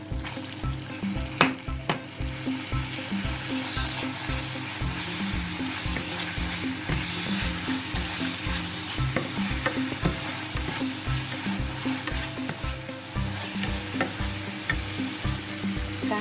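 Cabbage and minced pork stir-fry in a pan with a steady sizzle, punctuated by regular scraping strokes of the spatula roughly every half second, close and continuous with no talk.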